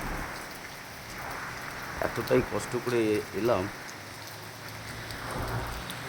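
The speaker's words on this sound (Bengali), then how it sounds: "কি হারে বৃষ্টি পড়ছে" Heavy rain pours steadily outside on a morning, a continuous hiss of drops on surfaces that runs through the whole stretch while someone talks briefly in the middle.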